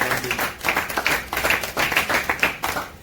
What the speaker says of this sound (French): Acclamez très fort pour la gloire.